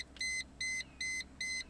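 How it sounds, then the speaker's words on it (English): A car's door-open warning chime beeps four times in an even, repeating rhythm, clear and close, while electric pumps run in a car fitted with a lightweight Antigravity battery. "We'll have to shut the door so that stupid beeping stops"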